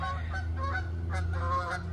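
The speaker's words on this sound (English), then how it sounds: "here comes some geese" A flock of geese flies over, honking repeatedly in short nasal calls at a moderate distance, over a steady low outdoor hum.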